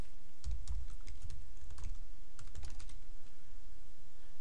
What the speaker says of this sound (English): start typing in a keyword like 3D